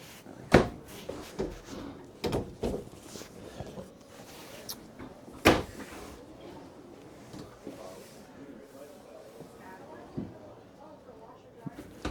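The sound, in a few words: cabinet doors and drawers opening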